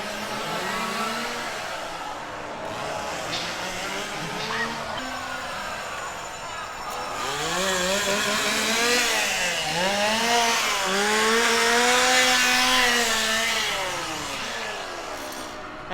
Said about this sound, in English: Lots of chainsaws this year.